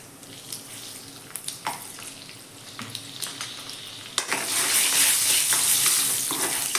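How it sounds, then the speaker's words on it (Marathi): Turmeric, asafoetida and a few garlic cloves tempering in hot oil for an eggplant dish, a steady close sizzle with scattered crackles and clinks that swells into a louder, fuller frying hiss in the last few seconds. "मस्त फोडणी आपण तयार करून घेऊया इथे"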